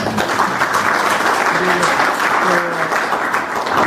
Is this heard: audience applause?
yes